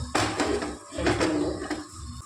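Clay cooking pot being handled in a kitchen, a few hollow knocks and scraping clunks close by, in short bursts.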